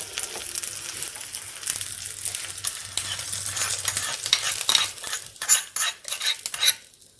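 Black mustard seeds popping in hot oil for a tadka, a dense, steady sizzle with bright crackles and a few stirring scrapes throughout. The crackling grows sharper and more scattered near the end before cutting off abruptly.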